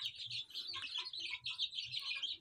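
Chickens cluck and chirp steadily in a small backyard coop squeezed into a narrow plot beside a house, with soft low thumps underneath and no talking.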